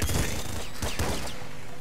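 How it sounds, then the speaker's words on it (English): The Super Splinter Gun in the roguelike shooter Nuclear Throne fires in dense, rapid volleys, a crackling fusillade of overlapping shots with punchy bursts near the start and middle over busy game noise. "Super Splinter Gun. Super Splinter Gun is neat."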